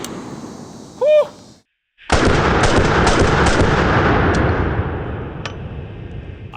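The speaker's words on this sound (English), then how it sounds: "Well, we know it'll run birdshot, which is usually the toughest test for these semi-auto shotguns" A Typhoon F12 semi-automatic 12 gauge shotgun fires birdshot outdoors: one sharp report is followed by a brief silence, then a second loud blast with a long decaying echo and a few faint clicks.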